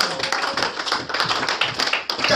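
A church congregation applauds the Lord with steady, loud rhythmic clapping up close. A faint voice sits under the clapping.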